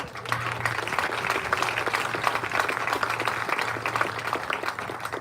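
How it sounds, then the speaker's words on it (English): Crowd applause at a Williston community event honoring a state champion high school softball team, steady dense clapping with a low hum underneath, moderately loud and continuous from start to finish. "Can we get some applause?"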